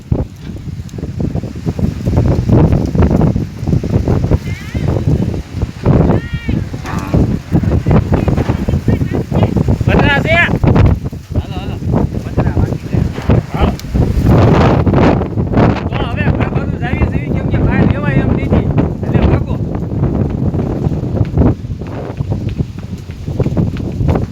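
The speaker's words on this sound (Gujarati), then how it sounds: "આ ઓચિંતાનું વાવાઝોડું આવી ગયું" Sudden cyclone windstorm in Bajud, roaring gusts battering the microphone with rattling, rustling debris and pounding bursts, loud and continuous while someone speaks over it.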